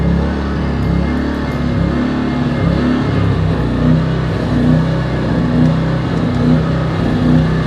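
TDR TI 2000 portable inverter generator engine running at a steady idle, a constant close mechanical hum with a faint regular pulsing throughout.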